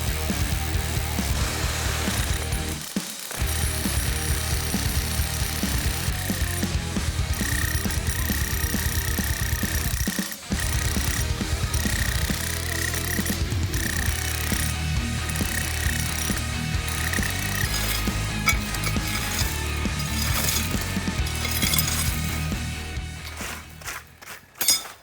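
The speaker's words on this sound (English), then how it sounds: "as we chip this out, it's going to break along that line where we drilled the holes" Concrete floor being chipped out with a power tool along a line of drilled holes during a kitchen remodel, a loud, steady mechanical hammering that runs almost without pause, with two brief breaks.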